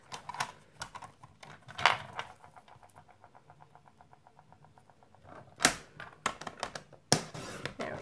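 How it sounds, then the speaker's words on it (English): Paper cut on a We R Memory Keepers envelope punch board gives a quick run of small, regular ticking clicks, framed by a few sharper taps and knocks, close up and quiet with no talking. "Just cut that piece off."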